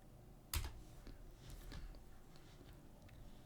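Typing on a computer keyboard at a desk: a sharp first keystroke followed by a light, irregular run of quiet clicks and taps, close and faint, with no voice.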